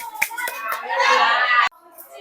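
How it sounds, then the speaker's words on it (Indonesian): Students in a classroom give a round of applause, a dense patter of many hands clapping for over a second beneath children's chatter before stopping abruptly, leaving faint voices. "Nah, beri tepuk tangan."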